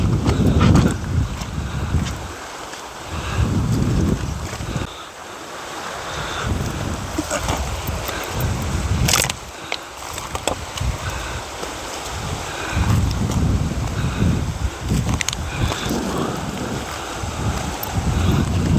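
Strong waves break and wash on a rainy autumn seashore under gusty wind that buffets the microphone, with loud surges rising and falling.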